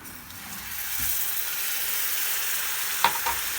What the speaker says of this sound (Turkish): E, sıcak su ben koyuyorum